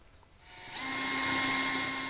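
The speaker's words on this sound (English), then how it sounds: "That's my biggest concern, is trying to hold the drill bit level so that, or straight up and down, so that it comes out the center." A drill spins up from quiet and bores a hole through a tree branch with a steady, close whine that holds to the end.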